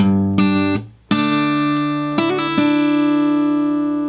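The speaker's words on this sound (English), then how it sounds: "we had that nice little hammer-on pull-off lick" Clean guitar playing the hammer-on pull-off lick from a song, several sustained notes with quick slurred changes in a slow phrase, close and clear with no talking.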